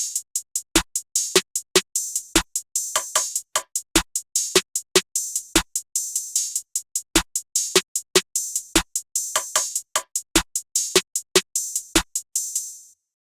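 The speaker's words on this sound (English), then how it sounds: "they're very regular trap drums. They're following always the snare and hi-hat two-step pattern." Sparse, regular trap drum pattern programmed in FL Studio, with crisp snare hits and hi-hats in a repeating two-step groove, punchy sharp transients evenly spaced and played dry with no other instruments.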